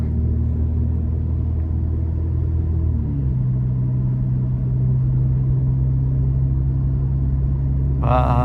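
A steady low exhaust drone from an Alfa Romeo Giulia running through its stock muffler while cruising, a smooth continuous rumble that shifts pitch partway through, with a brief brighter burst at the end.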